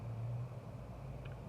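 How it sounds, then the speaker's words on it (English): Steady low road rumble of cars passing in the background, a continuous distant traffic drone with no voices over it. "If y'all can hear the cars and stuff in the background"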